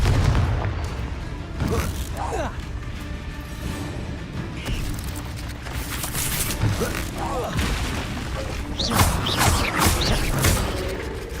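Confringo fire spell blasts in Hogwarts Legacy gameplay, with repeated booming bursts and crackling impacts over a busy layer of game sound effects, moderately loud throughout with no clear voice.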